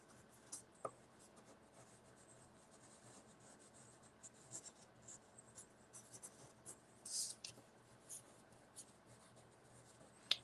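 A pencil scribbles rows of irregular squiggles on paper while it is rolled and twisted in the hand, giving soft, quiet scratching strokes with a few sharper scrapes.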